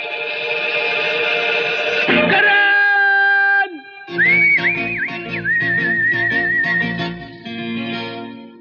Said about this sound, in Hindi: मुझे सीटी बजाना सिखाना प्लीज